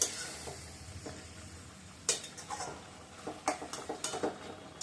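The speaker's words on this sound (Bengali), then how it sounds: "তো এবার নেড়ে ছেড়ে দিব।" Spoon stirring a bean and coriander curry in a metal pot, scattered clinks and scrapes at an uneven pace against a faint background sizzle.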